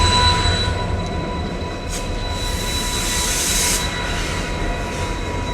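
A train at New Jalpaiguri railway station, heard as a steady, loud rumble of rolling wheels with high metallic squeal running through it, continuous and fairly close, with no talking.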